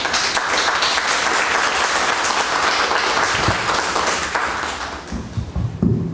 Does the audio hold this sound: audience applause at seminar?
yes